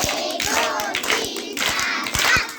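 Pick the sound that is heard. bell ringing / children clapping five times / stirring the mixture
children clapping five times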